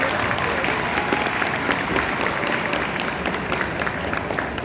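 Steady applause from a large convention-panel audience at MCM London 2023, dense continuous clapping filling the hall for several seconds with a faint crowd murmur underneath and no voices standing out.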